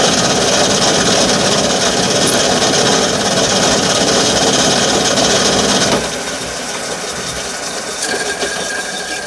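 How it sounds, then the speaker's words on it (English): Centre drill boring a starting point into metal while building a gauge 1 live steam model, a steady dense grinding whir that continues for about six seconds, then drops to a quieter running hum. "Got our centre drill in position, we're all set up just to drill the first starting point"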